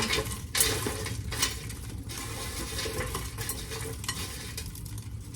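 Sweet-and-salty popcorn is poured into a bowl, a dry, steady rustling and clattering of kernels against the dish, close and fairly loud throughout, with no voices.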